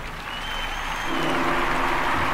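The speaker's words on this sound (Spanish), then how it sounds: "Con los aplausos recibimos a un bilbaíno" A theatre audience applauds at a Bilbao venue, a dense, steady wash of clapping that grows slightly louder and fuller partway through and carries on to the end, with no voices over it.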